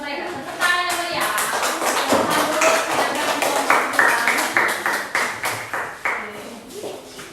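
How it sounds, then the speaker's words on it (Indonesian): A classroom of students claps for a group coming forward, a close, uneven patter of hand claps that thins into a few scattered, distinct claps toward the end. "Kita tepuk tangan dulu untuk mereka"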